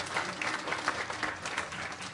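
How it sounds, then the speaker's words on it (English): An audience at a Q&A gives steady, fairly faint applause. The even patter of many hands continues throughout, with no single clap standing out. "A round of applause."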